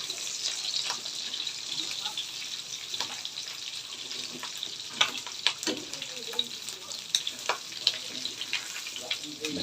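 Meat crackling as it fries in its own rendered fat for a home-cooked dish, a steady hiss broken by sharp pops and snaps that grow more frequent later, close and moderately loud with no talk.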